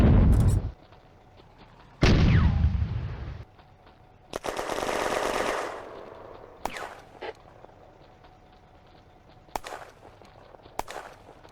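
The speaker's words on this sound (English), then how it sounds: "Mortar and tank cannon shells blast the German position." Mortar and tank cannon shells pounding a German position in a WWII 1940 video game battle: a few heavy, loud blasts, a long roaring burst, then scattered sharp cracks, with no talk.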